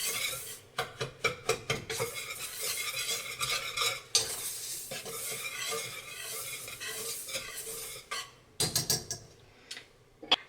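A whisk stirs cornstarch and brown sugar for pudding in a bowl, giving close, rhythmic scraping and tapping strokes with short pauses and a brief stop near the end, no talking.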